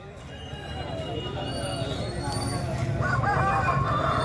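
A rooster crows at a busy hen market, its call rising near the end over steady crowd chatter and general market bustle.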